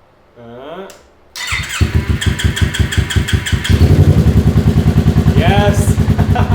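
A Yamaha R3 motorcycle engine cranks briefly, then fires and settles into a loud, close, steady idle with a rapid pulsing beat. A faint voice is heard near the start.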